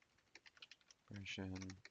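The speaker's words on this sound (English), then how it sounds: "My typing's really bad today." Rapid clicking of keys on a computer keyboard, a run of quick taps followed by a louder burst with a voice talking over it.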